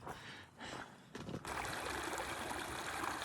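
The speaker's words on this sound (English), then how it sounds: "This is Willow Creek." Willow Creek flows along a hiking trail near Palm Springs, a soft, steady rush of water that swells after a brief quieter start and carries on alone.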